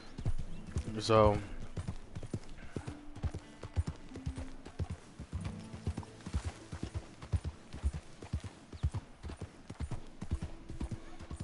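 Horse hooves clip-clop steadily at a walking or trotting rhythm in Red Dead Redemption 2, with a brief neigh early on and someone talking over the game sounds throughout.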